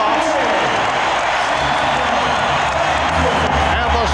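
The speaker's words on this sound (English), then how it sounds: "they are hearing it from this crowd. A standing ovation as both clubs head back to their locker rooms" An arena crowd at halftime of a 1996 NBA Finals game between the Bulls and Sonics gives a standing ovation, a dense roar of cheering, whoops and clapping that holds steady throughout.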